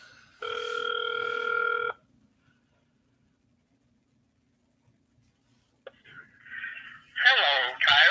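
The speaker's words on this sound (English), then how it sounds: "I'm gonna make a phone call real quick." An outgoing telephone call rings once with a single steady electronic ring tone lasting about a second and a half, followed by silence, a click and then voices on the line.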